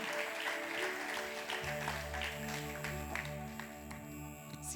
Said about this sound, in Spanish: te voy a pedir, dale un fuerte aplauso en esta mañana